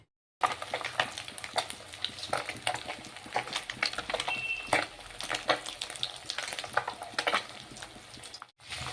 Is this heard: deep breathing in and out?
no